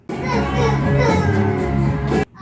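Children's voices chatter and shout excitedly together close by, a lively burst of play that cuts off abruptly.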